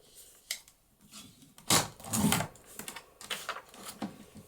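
Paper being cut for a handmade papercraft card, with a series of short crisp snips and slicing strokes near the microphone, one louder cut in the middle, and no talking.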